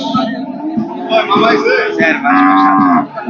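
Cow at a Bangladeshi cattle market lowing in several drawn-out moos of varying pitch, close and loud, with people talking in the background.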